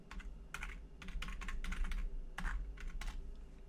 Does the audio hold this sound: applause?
no